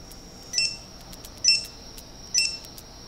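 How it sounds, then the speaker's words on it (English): A Phyn smart water sensor gives three short, high electronic beeps, evenly spaced about a second apart, while it connects to a network. The beeps are fairly faint against a quiet background. "It beeped. You heard a little beep on it, and the light on it turned green."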